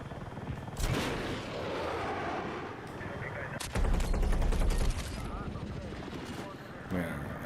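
Aircraft strafing fire in Battlefield 6 comes as sustained, dense gunfire with a roaring engine drone and a heavier burst in the middle, loud and close, with voices talking underneath.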